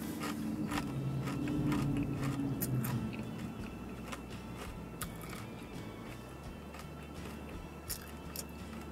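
Close crunching bites and chewing of Doritos Blaze tortilla chips, a series of sharp crisp crackles over muffled mouth sounds, fairly quiet with no talk.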